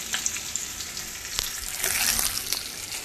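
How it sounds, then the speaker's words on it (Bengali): Fish sizzles and spits steadily in hot oil in a pan, with brief sharp crackles and the scrape of stirring up close. "এখন হচ্ছে মাছ ভাজা"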